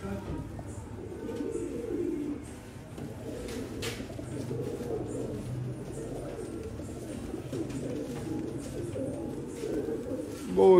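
Soft, continuous cooing of pigeons, low and murmuring, with faint chirps and background rustle throughout.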